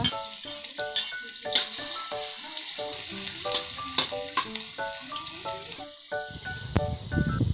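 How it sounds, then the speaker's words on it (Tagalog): Garlic and ginger fry in oil in a wok with a close, crackling sizzle and scattered pops, broken by light stirring scrapes, with no talk. "Lagyan na natin ang ating bawang at ang luya."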